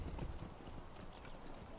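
A horse's hooves clip-clop in a steady quick rhythm while riding through the Shire in The Lord of the Rings Online, faint and continuous over a soft ambient background.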